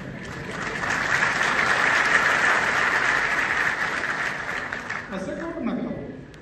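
A large crowd at a political rally claps loudly and continuously for several seconds, a dense wash of applause that tapers near the end.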